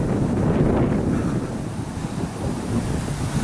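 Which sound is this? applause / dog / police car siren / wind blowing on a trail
wind blowing on a trail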